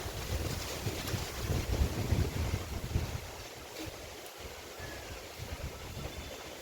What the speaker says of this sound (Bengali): এত হাওয়া কাল রাতের থেকে এত হাওয়া ছেড়েছে